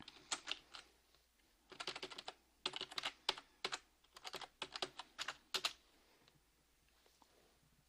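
Quiet keystrokes on a computer keyboard at a library desk, tapped in quick irregular bursts with short pauses between them, close and crisp with no talking.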